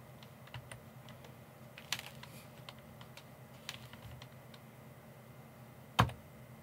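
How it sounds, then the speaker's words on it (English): Faint computer keyboard typing, scattered light clicks with uneven spacing against a quiet background, ending in one sharper, louder tap near the end. "I'm typing that now."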